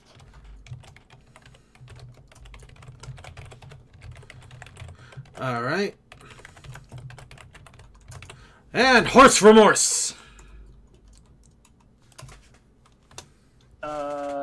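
Rapid keyboard typing clatters through the clip, close and steady, while a person speaks briefly in bursts over it.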